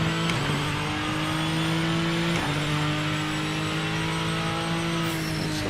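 A Ford GT GTE race car engine drones steadily in the Project Motor Racing video game, a constant loud tone with a couple of brief gear-shift dips, heard without any talking.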